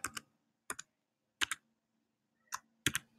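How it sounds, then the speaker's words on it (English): Computer keyboard keys tapped in short pairs and small clusters, spaced apart with quiet gaps, close and crisp, as a username is typed at a login page. "here you would type in your username,"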